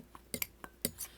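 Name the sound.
mixing spice blend in a bowl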